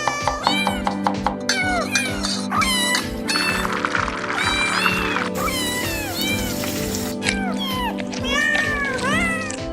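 A cat in an AI-generated cat cooking video meows and yowls repeatedly in loud, drawn-out calls over a steady background music bed.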